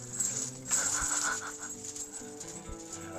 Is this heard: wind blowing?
no